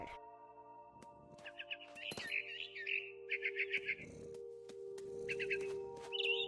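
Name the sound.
mama bird chirping in video game What Remains of Edith Finch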